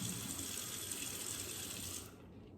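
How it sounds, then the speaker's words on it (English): Steady rush of tap water running into a sink as an egg is rinsed, close and continuous, then the flow cuts off near the end. "Guess you can rinse an egg with water?"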